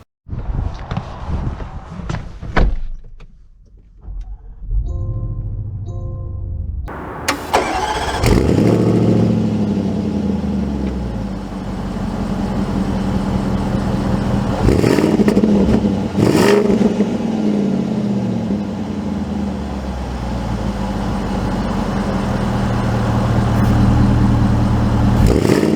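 A 2023 Land Rover Defender V8 Carpathian Edition starts up with a brief cranking whir, then its engine settles into a loud, steady rumble that swells and revs as the SUV pulls away and drives, with some shifting surges along the way.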